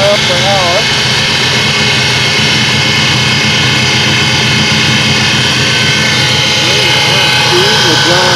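Homemade electric outboard motor built from an angle grinder, running at about 80 amps and pushing a boat at roughly 4 mph: a loud, constant motor whine and hum that fills the whole stretch with no break.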